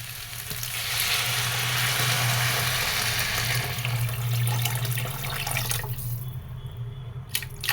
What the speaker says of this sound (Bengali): এখন আমি এর ভিতরে পরিমাণ মতো জল দিয়ে দিব